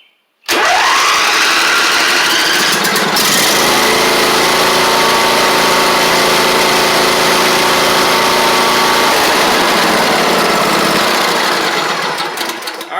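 A Snapper lawn mower engine, just fitted with a new starter solenoid, catches right after a brief pause and then runs loud, close and steady for over ten seconds.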